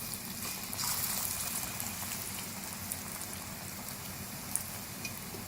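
Potato and spinach pakora batter hitting hot oil sets off a steady, dense frying hiss, close and continuous, with a few small pops and crackles on top and no voices.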